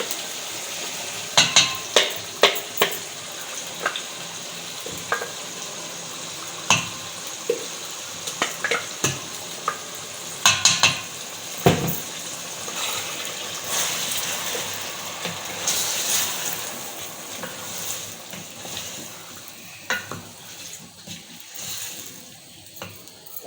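Ground masala frying and being stirred in a pot for degi aloo gosht, a steady hiss of sizzling under repeated scraping and clacking of a spoon against the metal, irregular and fairly close, without speech.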